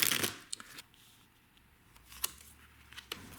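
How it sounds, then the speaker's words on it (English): A tarot card deck is shuffled by hand, giving a brief riffle burst at the start followed by quiet, scattered card flicks and taps, close and soft with no talking. "We're going to shuffle the deck."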